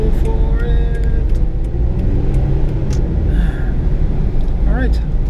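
A 1993 Mitsubishi Bravo van with five-valve-per-cylinder engine drives along, its engine rumbling steadily with a rising pull as it accelerates, close and continuous, with traffic noise around.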